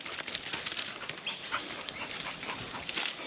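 Faint dog panting with soft whimpers as the dog wades in a dam, amid a wash of splashing water and outdoor background noise.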